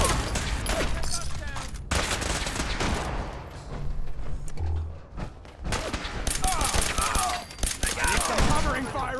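Sustained covering gunfire in Fallout 4, dense rapid shots rattling almost continuously with a brief lull midway, loud and close, with shouted voices mixed into the battle.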